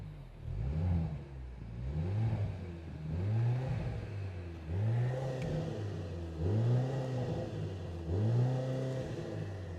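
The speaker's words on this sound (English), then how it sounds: "Let me rev the engine a little bit." Mercedes-Benz SL 43 AMG four-cylinder engine revved repeatedly while stationary, about five rising and falling blips in a steady rhythm, loud and close with no talk.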